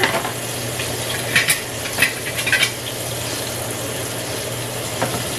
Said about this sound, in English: Then I'm just going to stir that and let that come to a boil.